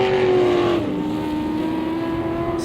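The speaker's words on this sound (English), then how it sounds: "You can hear that 44 truck just humming through the field." An off-road racing truck, number 44, hums steadily through a gravel pit at Brush Run, its engine drone loud and close, pitch dipping slightly then holding even, with no talk over it.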